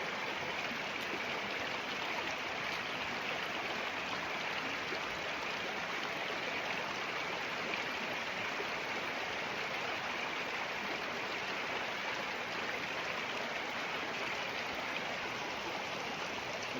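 A river stream flows steadily in a natural outdoor setting, a constant broadband rush of water close by and unbroken throughout, with no voices.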